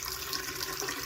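Water running steadily from cottage spigots after the system is switched on, a continuous close hiss and gush of flowing water with no pauses and no voices.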